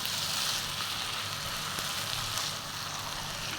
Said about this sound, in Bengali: এই কারণে আমি এই মাছটা দিয়ে কচুটা কষাতে পারতেছি